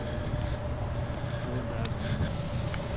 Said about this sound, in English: Listen to that wind in the tree.